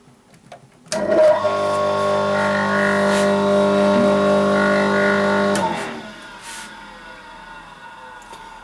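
An Erbauer ERB337TCB electric tile cutter switches on abruptly, runs with a loud steady motor whine for about five seconds, then powers down, leaving a faint ringing tail.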